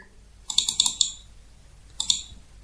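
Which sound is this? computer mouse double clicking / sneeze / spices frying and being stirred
computer mouse double clicking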